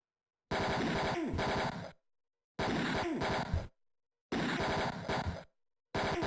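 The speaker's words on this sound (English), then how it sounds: "Time to shoot some more anonymous goons." Machine-gun fire from the video game Mean Streets, where goons are being shot, comes in four sharp, evenly spaced bursts, each about a second long and separated by silence.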